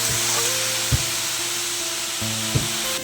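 Bottle gourd cooking in a pan with a steady, close sizzle that holds throughout, broken by a couple of brief clatters, with no talking.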